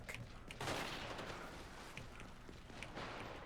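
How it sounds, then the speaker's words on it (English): Pistol fire in the shooter game Gears 5, a burst of sharp shots landing close and loud over a dense, busy battle din, with several more cracks spaced through the rest of the moment. "if you want to see how a pistol works, I'll show you how a fucking pistol works"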